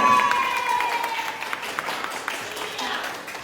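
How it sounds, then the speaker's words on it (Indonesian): Short burst of applause from students at a school quiz competition as class scores are announced, fairly close and tapering over a few seconds with some crowd noise mixed in. "Tepuk tangan dulu."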